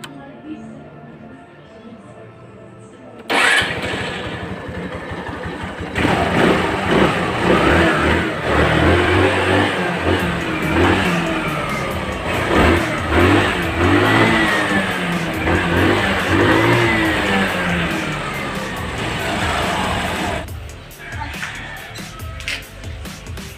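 A Honda Click scooter engine, fitted with a new carburetor and pulley, idles and then revs up loudly and repeatedly at close range, with people talking over it.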